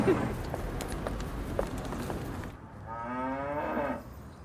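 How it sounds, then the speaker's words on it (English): A dairy cow on a British farm lets out one long, drawn-out moo, following a stretch of muffled outdoor noise and thuds. "We even got the help of Lulu, Britain's cutest cow"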